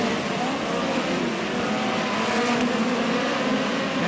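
Midget race cars roar hard into a turn on a dirt oval at Lake Ozark Speedway, a dense, continuous engine drone that stays loud and steady throughout.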